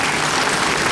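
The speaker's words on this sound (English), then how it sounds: "Let's give these guys a round of applause." A Red Lake State of the Band audience applauds a three-star Warrior Society, a dense, steady wash of clapping that stays loud and even through the whole short moment.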